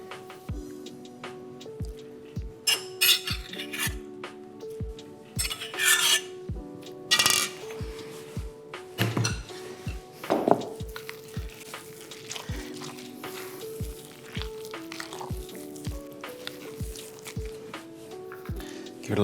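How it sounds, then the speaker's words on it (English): Eggs, cheese sauce and softened leeks being mixed into mashed potato for Welsh Anglesey eggs, soft wet squelching and rubbing strokes close up over a quiet background rhythm. "Just want to mix these into my mash."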